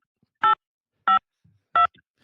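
Telephone keypad dialing tones: three separate short DTMF beeps spaced evenly about half a second apart, clear and moderately loud over near silence, with a faint low murmur between them.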